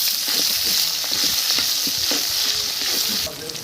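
Chopped onions hit hot oil in a pan for a chicken curry, giving a loud, dense, continuous sizzling hiss with faint stirring clatter underneath, close by and without voices.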